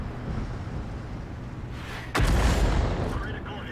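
A tank gun shot strikes a GSOR tank in World of Tanks, one sharp, heavy impact crack about two seconds in that rises out of engine rumble and leaves a booming tail, with a voice talking over the scene.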